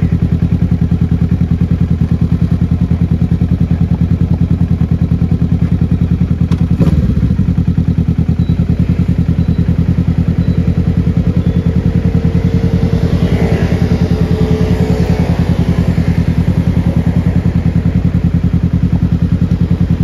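A Kawasaki Z650 fitted with an SC Power exhaust runs steadily during a test ride, its engine droning loud and constant, with a thump and rising rev sweep midway through.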